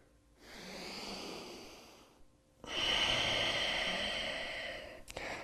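Two long, deep breaths during a yoga-style exercise, each a slow airy draw followed by a breathy release, close and fairly quiet, with no talking.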